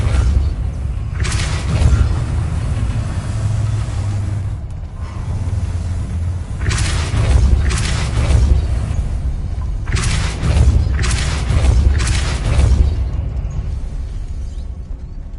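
Forceful Depulso repelling-spell blasts from the Hogwarts Legacy video game land as a series of deep booms and thuds over a low rumbling game backdrop, several bursts spaced a few seconds apart, with no talking.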